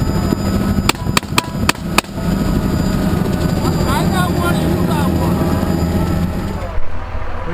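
A helicopter on a hog hunt in Texas drones steadily with rotor chop and engine roar, loud and close throughout, with a few sharp bangs near the start and voices speaking over the noise.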